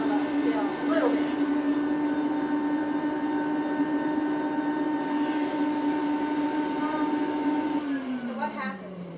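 A Rainbow vacuum cleaner motor drones in a steady, high-pitched whine with a clogged filter, then its pitch drops as it begins to wind down near the end, with some talking underneath.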